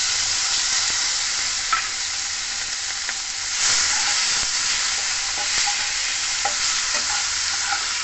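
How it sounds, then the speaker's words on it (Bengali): Chopped tomatoes frying in oil with cumin, turmeric and Kashmiri chilli powder for an okra masala, a loud, continuous close sizzle with occasional stirring clicks and no talk. "এর মধ্যে আমি কেটে রাখা টমেটো দিয়ে দেবো।"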